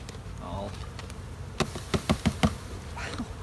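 Honey bees buzz faintly while a beekeeper collects about half a cup of them for alcohol mite sampling, a low hum under a quick run of five knocking taps near the middle, with a soft voice at the start and end.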